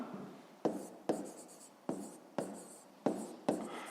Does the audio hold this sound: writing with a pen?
yes